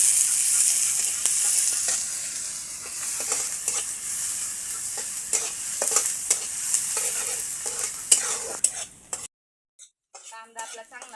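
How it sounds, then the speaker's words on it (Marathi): Onion sautéing in a pan for a shellfish recipe, a bright continuous sizzle with repeated spatula scrapes and clinks against the metal, fading into quiet with faint sounds at the end. "आता कांदा घालून घेऊ. कांदा परतून घेऊ चांगला."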